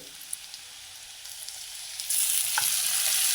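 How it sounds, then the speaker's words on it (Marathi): Garlic and cumin sautéing in a pan: a quiet sizzle and light stirring that swells into a louder, brighter frying hiss partway through. "त्याच्यामध्ये जिरे पण टाकून घ्यायचे थोडेसे लसूण छान परतलेलं आहे"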